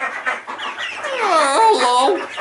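Hens on a homestead give overlapping, warbling clucks and calls up close, with one longer rising-falling vocalization in the middle, filling the short moment continuously.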